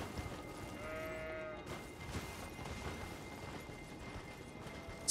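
Sheep bleating in the video game Elden Ring, set on giant mountaintops: a single short, wavering bleat rises briefly over a steady wind-like ambient bed, fairly faint and without speech.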